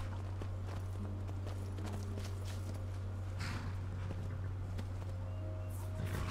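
Soft, steady clip-clop of horse hooves at a walking pace in the video game Skyrim, faint beneath a constant low hum, with no voices.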